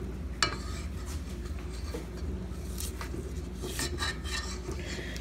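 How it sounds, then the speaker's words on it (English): Rubber spatula scraping flour down the sides of a mixing bowl of pancake batter, soft repeated rubbing and scraping strokes with a few light clinks, quiet and close. "you're gonna take your rubber spatula, and you're going to want to move down any flour from the sides"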